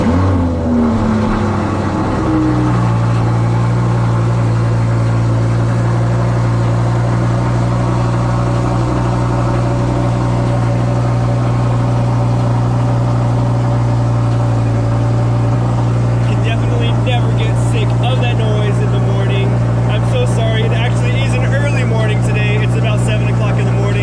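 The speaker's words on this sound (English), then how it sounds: "Here goes the cold start." Audi R8 V10 roaring through a cold start in a garage, a loud initial bark and rev settling into a steady, heavy high idle that drones on for the rest of the clip, with faint clatter near the end.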